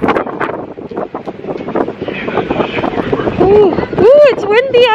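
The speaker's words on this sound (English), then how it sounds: "Ooh, it's windy up here." Gusty wind on a Seattle ferry deck buffets the microphone in heavy low rumbles, with voices talking over it throughout.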